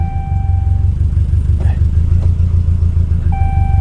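A cheap Chevrolet Camaro SS at a salvage auction idles with a steady low rumble while the driver tries to put it into gear, with faint tonal chimes and a brief clunk partway through.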